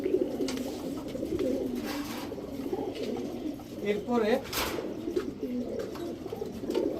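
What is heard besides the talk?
pigeons cooing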